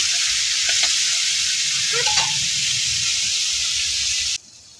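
Potatoes fry in a pan with a steady, close sizzle and hiss, broken by a few scraping stirs near the middle before the sound cuts off abruptly at the end.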